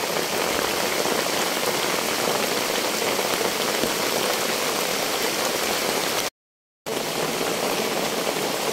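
Heavy downpour drums continuously on a roof over a bamboo shelter, a loud, dense, unbroken roar of rain with a brief cut to silence near the end.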